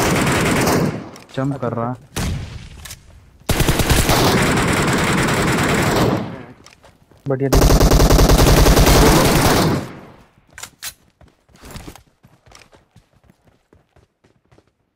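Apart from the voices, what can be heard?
gunfire from the video game BGMI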